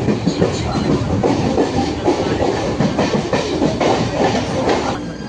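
A crowded local train pulls into a station at Pimpri, wheels clattering in a steady clickety-clack with hiss and faint squeal, loud and continuous, with a murmur of people under it.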